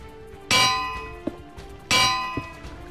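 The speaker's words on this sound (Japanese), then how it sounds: "金床って壊したとき、音、これだったっけ?" Two loud metallic clangs of an anvil breaking in the Minecraft video game, each ringing and fading, with a faint softer clink after each one.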